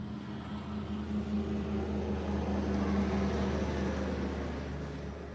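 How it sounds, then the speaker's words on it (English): Heavy silage trucks from a neighboring farm's silage chopping rumble past nearby, a steady low engine drone swelling and fading over several seconds. "They are chopping silage at our neighbors, so we have semis driving by."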